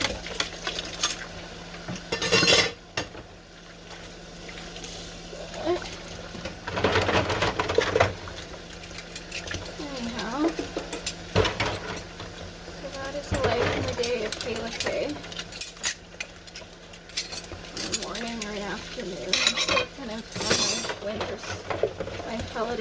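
Dishes and silverware are washed at a kitchen sink, with scattered clinks, clatters and knocks of plates and utensils that come in bursts and pauses over a steady, low background.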